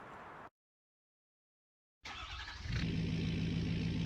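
After a brief pause, a truck engine in Farming Simulator 19 starts and settles into a steady, rumbling idle that grows louder.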